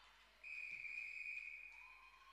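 Referee's whistle at a netball match, a single sustained shrill blast lasting over a second, fairly faint and distant over arena ambience.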